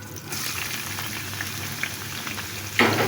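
Garam masala and chopped onion sizzle in hot oil for chicken shahi korma, a steady moderate crackling hiss with scattered pops and a sudden louder burst near the end as more goes into the pan.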